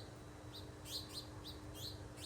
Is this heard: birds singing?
yes